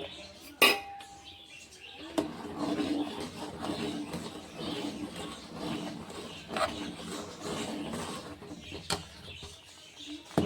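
A spoon stirs milk in a metal pot after lemon juice is added while making paneer from milk powder, producing soft, irregular scraping and clinking at close range, fairly quiet, with a few sharper taps.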